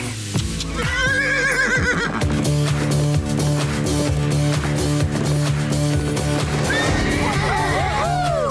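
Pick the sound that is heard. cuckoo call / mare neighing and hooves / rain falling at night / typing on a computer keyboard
mare neighing and hooves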